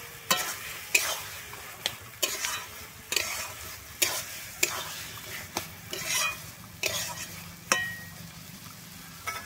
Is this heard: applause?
no